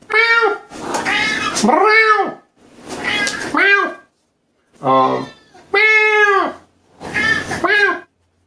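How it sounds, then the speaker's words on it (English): A cat meows repeatedly and loudly at close range, a series of long drawn-out, wailing cries separated by short pauses. "that's still my cat"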